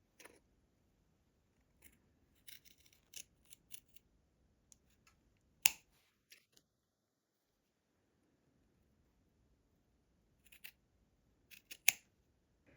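Scissors trim quilt fabric down to the stitch line on a Dresden tree skirt. Sharp, close snips come in irregular bursts, some quick runs and a few louder single cuts, with near silence between them.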